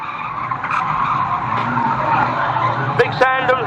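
A race car spins round on a raceway during an old boys' race meeting, a long smeared engine and tire skid with squeals rising near the end, heard from a distance under a commentator's voice.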